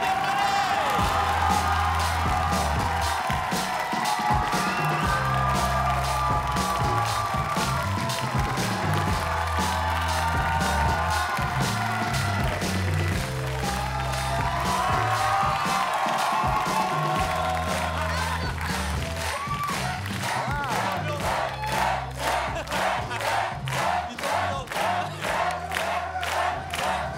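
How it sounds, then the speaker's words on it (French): A studio audience at a French talk show claps and cheers with whoops, building into a loud roar while rhythmic music plays beneath, and the clapping turns sharp and rhythmic near the end. "un tonnerre d'applaudissements pour Gad Elmaleh"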